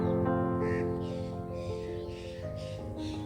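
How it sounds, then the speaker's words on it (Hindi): Bird calling in a sunlit forest, with a couple of brief crow-like caws rising over a steady, fairly loud hum of background noise. "चिड़िया"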